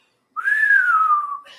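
A person whistles in the background, one clear sustained note that rises slightly and then slowly glides downward, heard alone and fairly close.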